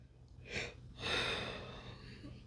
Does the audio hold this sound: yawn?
yes